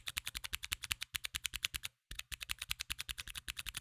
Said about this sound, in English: And they sound pretty good too, they sound like this.